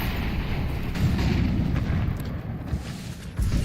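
Grenades going off early in a round of a Counter-Strike tournament match, a steady rumbling wash of muffled blasts and crackle with no clear single bang, loud and continuous throughout.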